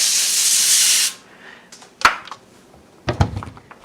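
Cooking spray hisses steadily for about a second onto a foil-lined baking sheet, followed by scattered clicks, a sharp tap and the clatter of handling.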